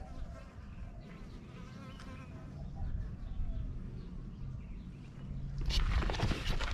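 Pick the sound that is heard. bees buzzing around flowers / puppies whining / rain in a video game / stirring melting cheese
bees buzzing around flowers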